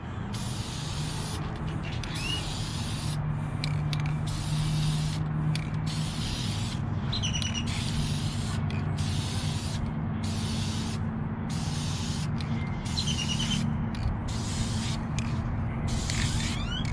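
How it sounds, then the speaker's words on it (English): Aerosol spray can hissing in steady bursts while tinting the taillights of a Ford F150 pickup, each spray pass close and loud with brief gaps between strokes. "just spray until I feel it's dark enough"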